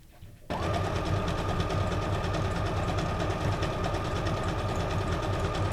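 A sewing machine stitching a small paper junk journal tag starts abruptly after a brief quiet moment, then runs at a steady, rapid mechanical clatter close by for the rest of the clip.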